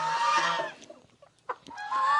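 Chickens clucking and crowing inside a straw-floored farm coop, a loud close burst at the start, scattered soft clucks in the middle, then another loud call at the end.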